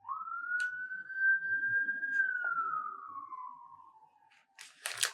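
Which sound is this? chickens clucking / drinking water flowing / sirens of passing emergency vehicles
sirens of passing emergency vehicles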